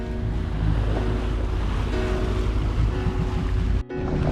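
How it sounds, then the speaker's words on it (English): Ocean surf breaking nearby on the approach to Hilo, Hawaii, heard from a sailboat at sea: a steady, loud wash of water and wind noise with a brief dip near the end. "look at the waves breaking over there"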